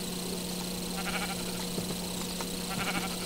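Sheep bleating in a crafting video game, a few short synthetic bleats sounding over a steady game background hum, with no talk.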